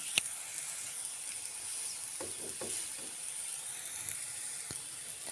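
Jaggery puray fry in ghee in a pan, a faint, steady sizzle and hiss with a few soft clicks and stirring scrapes, heard alone with no talking.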